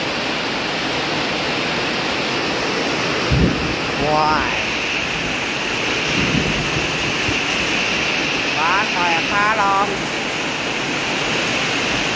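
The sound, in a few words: heavy rain and wind storm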